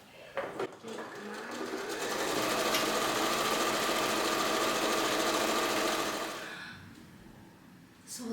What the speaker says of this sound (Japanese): まず表布の脇を縫って、次に裏布をこれまた6センチぐらいに 縫ってってとこまで進めたいと思います